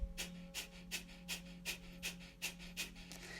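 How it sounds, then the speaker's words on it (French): About ten rapid, forceful exhalations through the nose during yoga breathing, evenly spaced and fairly close, over a steady low background hum. "On va expulser l'air par le nez d'une façon sèche et rapide."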